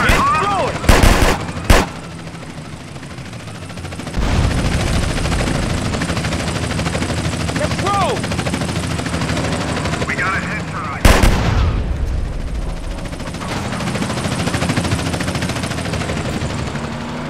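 Video-game gunfire rattles in fast automatic bursts during a drive-by in GTA San Andreas, set against loud, continuous engine and helicopter-like droning. Sharp sudden blasts cut in at the start and again partway through.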